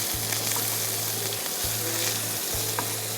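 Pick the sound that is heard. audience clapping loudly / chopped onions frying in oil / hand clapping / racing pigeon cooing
chopped onions frying in oil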